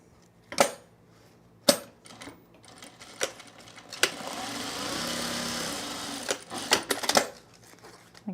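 Domestic sewing machine stitching fabric right sides together: a few sharp clicks and clunks, then a brief steady whirring run of stitches, fairly quiet and close, with faint room noise.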